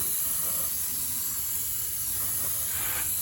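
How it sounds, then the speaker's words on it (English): An airbrush sprays a light coat of AK 3rd Generation varnish, giving a steady, close, continuous airy hiss that runs unbroken from start to finish with no talking. "Put this in the airbrush. And let's start shooting it and see how this goes."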